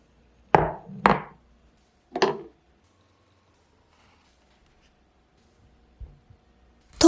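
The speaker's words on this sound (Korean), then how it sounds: "토마토는 대강 자르시고요." Tomatoes roughly cut with a knife on a cutting board, a few sharp separate chops close by with long quiet gaps between them.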